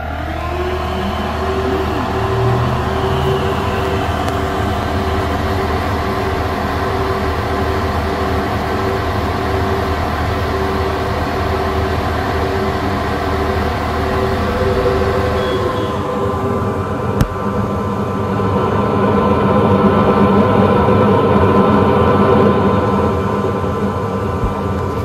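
An xTool P2 laser engraver works on a pencil, with a continuous machine drone and fan hum that shifts in tone partway through, steady and fairly loud with no talking.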